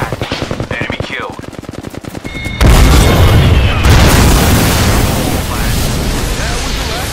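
Automatic weapon fire in the Apex Legends battle royale game, rapid bursts early on then a sudden loud, dense barrage of shots and booms that carries on continuously to the end.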